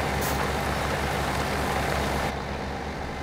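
A farm vehicle's engine in Farming Simulator 17 runs as a dense, steady, loud drone that drops slightly in brightness toward the end, with no speech.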